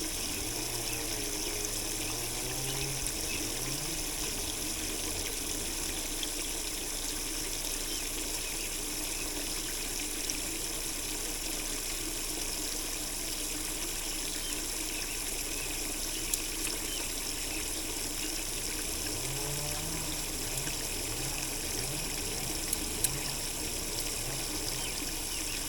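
Water steadily trickles and drains out of a homemade kayak live well, a continuous wash of running water with a low gurgle that comes and goes, with no talking.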